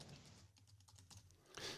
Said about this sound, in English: I'm typing the Shaggy Dog versus John McClane